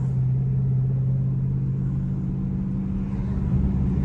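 A stage 2 tuned Dodge Scat Pack roars under hard acceleration, a loud, steady low engine drone with deep rumble holding throughout, close and continuous with no talk over it.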